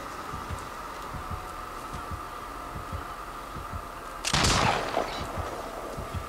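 A single sharp, loud gunshot from the Deathslinger in the Dead by Daylight video game stands out over a steady hum and a soft, regular thumping pulse, followed by a brief rumbling tail.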